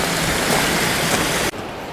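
Bridal Veil Falls near Vancouver, a close, constant hiss of rushing water that runs steadily, then drops abruptly to a quieter level for the last half second.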